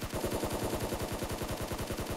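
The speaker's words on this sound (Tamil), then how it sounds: "இதில் வந்து ஸ்காரல் மட்டும் கொஞ்சம் அதிரடியாக வந்து புல்லட் வந்து இறக்கும்" Rapid automatic fire from a SCAR rifle in the mobile shooter BGMI. The shots are fast and evenly spaced and keep going without a break for about two seconds, at a moderate level with no voices.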